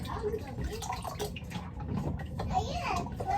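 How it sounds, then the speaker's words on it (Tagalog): Water is poured or runs from a tap to soak an item in hot water, a continuous splashing flow under a child's and an adult's voices talking nearby. "Tapos binababad siya sa mainit na tubig."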